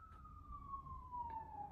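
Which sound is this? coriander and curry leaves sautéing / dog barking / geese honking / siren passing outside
siren passing outside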